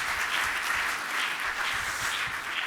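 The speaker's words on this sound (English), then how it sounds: "a round of applause" Applause from a forum audience after a presentation, a continuous wash of clapping at moderate loudness with no talk.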